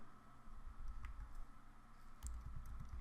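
Keystrokes on a computer keyboard while editing a package.json file for an Ionic 3 app, a soft scattered run of clicks over a low steady hum, with a denser burst near the end.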